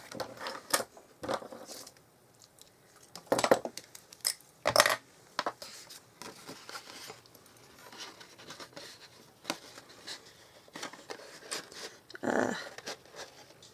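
Tin snips cutting through card stock for a stepper card: a series of sharp, close snipping clicks at an irregular pace, separated by quiet gaps and light paper handling, with no talking.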